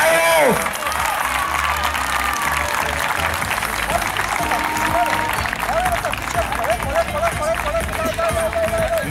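Crowd applause and cheering fill a sports hall at a mini football tournament as a young player from the national team line-up is introduced, dense and steady throughout, with crowd noise and babble mixed in.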